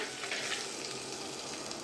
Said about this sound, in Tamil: எல்லாத்தையும் சேர்த்து இந்த மாதிரி தாளித்து விட்டுக்கலாம்